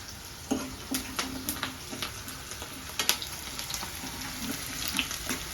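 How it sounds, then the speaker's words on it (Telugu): Ridge gourd masala frying in a pan, a soft continuous sizzle with scattered crackles and light stirring knocks, close and steady with no talk over it. "సో వేగుతుంది, వేగనిద్దాం."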